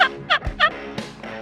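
A hunting game call imitating a hen turkey: three short, close yelping clucks in quick succession followed by a softer fourth note, loud and alone without talk.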